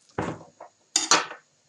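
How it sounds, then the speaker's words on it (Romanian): A knife chops parsley on a cutting board, giving four sharp, separate knocks in an irregular rhythm, close and clear, with no talking. "Eu am să tai și pătrunjelul un pic"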